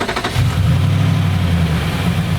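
A Nissan vehicle's engine settles into a steady, loud, close idle with a low continuous rumble after a brief startup burst.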